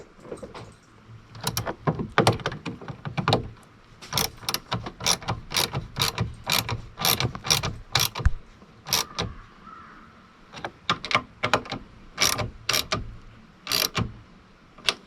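A ratchet clicks in quick repeated bursts while snugging the door mirror nuts on a 2001-2004 Toyota Tacoma, with sharp close ticks in uneven runs and short pauses between them.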